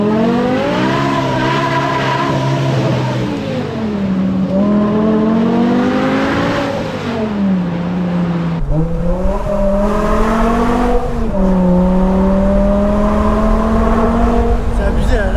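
A manual-gearbox car engine pulls loud and close through the gears, its revs climbing steadily, dropping at each shift, then climbing again over several shifts, with people talking inside the car.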